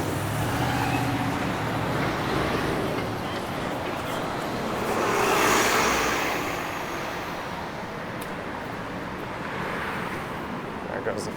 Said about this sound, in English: There goes the 51 bus.